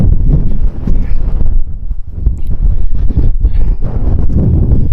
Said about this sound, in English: Just a damn shame about this wind.